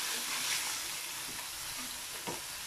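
Mince for a curry sizzles steadily in a hot pan, a continuous close frying hiss with faint stirring scrapes and no one speaking.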